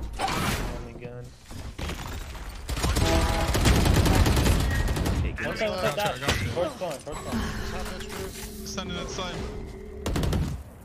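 Gunfire in the tactical shooter Valorant, bursts of shots and mechanical weapon clatter mixed with game effects, with a player talking over much of it.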